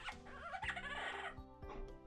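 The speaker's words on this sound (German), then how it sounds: "Das war doch 1A das Geräusch vom Strauß." An in-game bird in Minecraft making an ostrich-like call: a burst of clucking, squawking fowl-like noises followed by several short descending chirps, close and fairly loud, with no speech.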